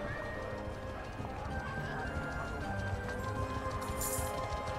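Horses ride past in Mount & Blade II: Bannerlord, a steady patter of hooves with an occasional whinny against a dense, constant battlefield ambience, moderately loud and continuous.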